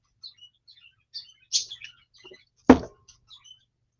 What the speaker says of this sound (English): I don't know why the parakeets are loud today.